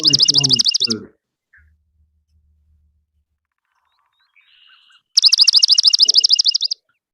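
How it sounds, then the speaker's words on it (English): A swamp sparrow in swamp or marsh habitat gives two loud, rapid, evenly pulsed trills of about a second and a half each, separated by a long silence, with a voice talking briefly at the start. "in this particular case, because of its habitat, you'll probably determine that is a swamp sparrow"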